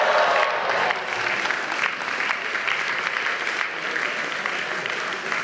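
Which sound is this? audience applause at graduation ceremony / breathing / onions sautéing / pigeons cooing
audience applause at graduation ceremony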